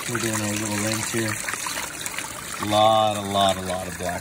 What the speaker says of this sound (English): turn the water down. We're doing a little rinse here.